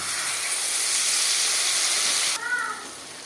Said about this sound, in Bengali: গুলে রাখা গুঁড়ো মশলাটা ছিল জলে গুলে রাখা সেটাকে আমি দিয়ে দিচ্ছি এই গরম তেলের মধ্যে